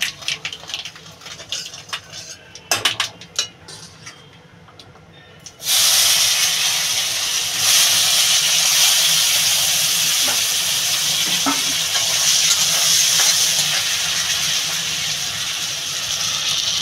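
Mango pieces hit a hot pan of oil and break into a loud, steady sizzle and hiss during Bengali cooking, following a few seconds of quieter clinks and stirring.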